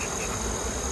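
Dense, continuous buzzing of many honeybees from a late-season swarm, loud and close, a steady drone with no pauses and no talking.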